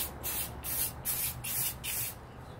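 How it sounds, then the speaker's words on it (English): An aerosol spray can hisses in four short, even bursts, close by, with brief pauses between each spray. "we're just gonna spray that top"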